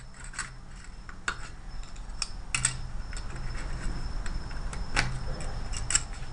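Small metal pieces cut from an Altoids tin with scissors clatter and tick as they are dropped into the tin, a run of sharp, close, light metallic clicks and taps at an uneven rhythm, with no talk.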